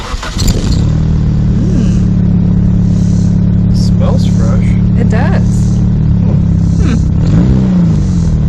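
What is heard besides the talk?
2000 Nissan Sentra engine running and revving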